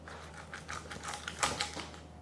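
A garlic clove is rolled inside a garlic roller on a countertop, and its papery skin loosens with soft, quiet crackles and clicks in a loose, irregular rhythm, close by and faint, with no talking.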